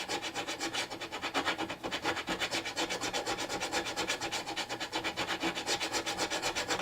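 Guitar frets are worked with an abrasive crowning tool in steady back-and-forth strokes. The rasping rubs are close and moderately quiet, repeat in an even rhythm, and have no talk over them.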